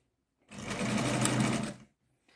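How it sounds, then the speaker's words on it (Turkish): A sewing machine runs in one short, close burst of rapid, even stitching, sewing the edge of a phone-sized fabric robe, then stops; no one talks over it. "yine bir makine yandan dikeceğim bunu şöyle"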